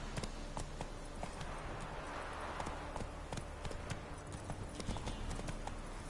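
Horse trotting in The Witcher 3, steady clip-clop hoofbeats in an even rhythm, close and moderately loud over a continuous ambient game soundscape.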